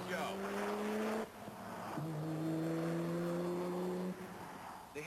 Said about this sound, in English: The Peter Farrell supercar is docile in traffic, but it does make some nasty sounds.